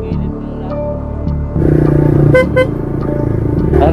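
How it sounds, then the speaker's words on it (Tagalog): A car horn honking on a road trip through Laguna, several short toots over a running vehicle engine, loud and close, with a steady drone underneath. "Ano, busina lang kayo dito."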